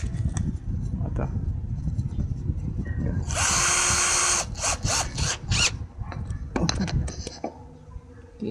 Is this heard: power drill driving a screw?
yes